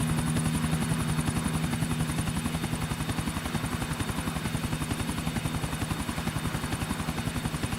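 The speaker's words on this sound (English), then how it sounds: "we finally got into the damn helicopter" A helicopter in the GTA IV video game gives a steady, fast rotor chop that stays loud and close throughout, with no talking.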